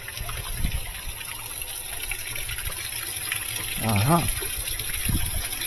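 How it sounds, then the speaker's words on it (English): Steady hissing spray of water leaking from a washing machine's water inlet valve, a constant close rushing noise with a brief voice murmur partway through. "This water valve's leaking right here."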